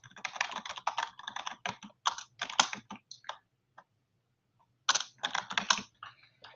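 Someone types on a computer keyboard in quick, dense bursts of key clicks, pausing for over a second midway before resuming with more rapid keystrokes; close and clear, with no talking.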